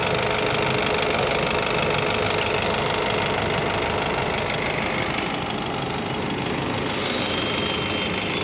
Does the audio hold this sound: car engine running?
yes